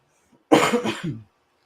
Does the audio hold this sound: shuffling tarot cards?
no